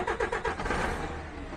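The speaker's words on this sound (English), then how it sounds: "Let's go start the engine." A DAF CF truck diesel engine cranks with a few rhythmic starter turns, then catches and runs into a steady rumbling idle, close and fairly loud.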